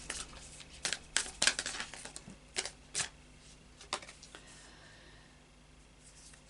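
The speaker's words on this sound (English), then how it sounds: "I've pre-shuffled all of the cards, so it's just a matter of a final shuffle." Tarot cards get a final shuffle by hand, quiet and close: a handful of crisp riffling clicks and taps in the first few seconds, then near silence.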